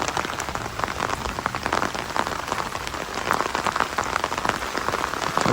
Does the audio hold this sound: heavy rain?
yes